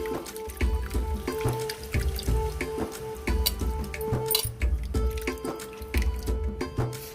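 Soaked tamarind water poured into a pot of Godavari-style Pandugappa fish curry, a steady liquid splashing and trickling with drips, close and continuous, with no talking.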